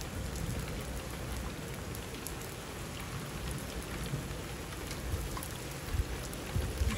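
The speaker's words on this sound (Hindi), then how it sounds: "बारिश हो रही है" Heavy rain falling steadily on a Pakistani village home, a dense continuous hiss with occasional louder drops, close and constant with no voices.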